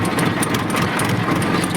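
A tractor engine idles nearby on a farm, a steady, loud, low chugging drone with an even rhythm and no talk over it.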